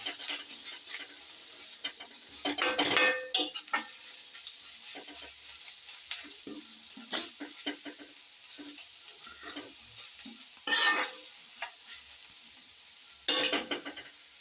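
Egg noodle masala with chilli powder is stirred and fried in a pan, with a quiet sizzle running throughout and broken by several louder bursts of scraping and clattering from the spoon.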